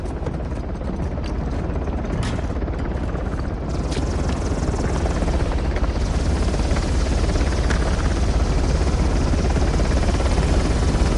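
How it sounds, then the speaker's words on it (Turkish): A helicopter in the video game Uncharted thunders with a dense, continuous rotor roar, loud and steady throughout with no speech over it. "Helikopteri başka bir şeyle düşürmeliyiz."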